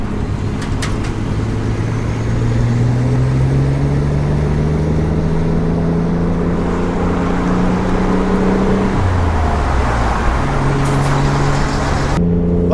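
A Renault Clio V6 Sport Phase 2 accelerates up a motorway on-ramp, its engine droning loud and steady from inside the cabin, pitch climbing through the gears with a brief drop at a shift.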